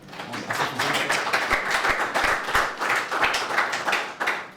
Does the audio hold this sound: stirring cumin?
no